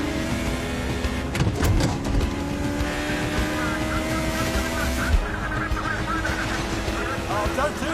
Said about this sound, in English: Hunt's M23 twitching this way and that under braking.